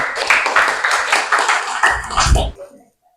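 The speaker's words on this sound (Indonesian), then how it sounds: "Kasih tepuk tangan buat Mbak Nur Syamsih, Zikra sama Mbak Kesya" Students in a classroom clap for classmates in a brief, dense round of applause that ends abruptly, followed by near silence.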